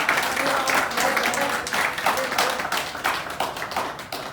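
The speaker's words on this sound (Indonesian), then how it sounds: "tepuk tangan teman-teman" Scattered clapping from a small group at a 30th jubilee celebration in Indonesia, steady and moderately loud throughout, with voices murmuring underneath.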